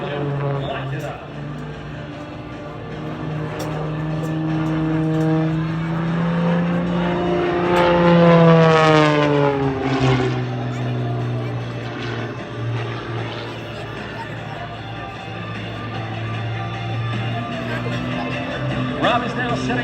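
Aerobatic airplane performing precision maneuvers at the New Jersey Air Show, its engine droning steadily then swelling into a loud, rising-and-falling pass mid-clip before settling back to a sustained hum.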